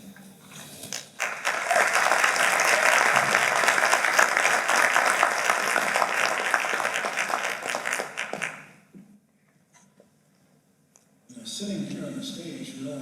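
Audience at a Martin Luther King commemoration event applauding: a dense, loud wave of clapping for several seconds that fades to near silence, then a speaking voice resumes.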